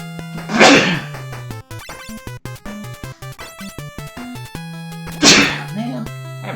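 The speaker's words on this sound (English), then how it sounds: "Man, I haven't sneezed all day." A sneeze bursts out loudly in the NES game Final Fantasy III, and a second sneeze follows a few seconds later, with chiptune music playing between them.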